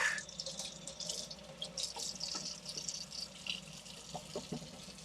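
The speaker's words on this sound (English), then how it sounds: "I'm going to wash the cucumber off real quick." Kitchen tap running steadily while a cucumber is washed under it, a faint close hiss of water with small splashes and drips breaking the stream, no voices.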